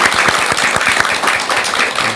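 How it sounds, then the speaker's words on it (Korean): Studio audience applauds during a Buddhist broadcast talk show, giving a loud, dense burst of many hands clapping with distinct sharp claps near the front, sustained without speech. "박수 한 번만 더 쳐주세요."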